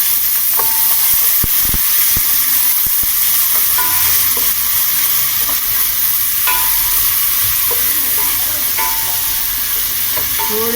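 Onions sizzle loudly in a hot pan with cumin and garlic while being stirred, with a constant crackling hiss broken by occasional scraping clinks of the spoon and no talking.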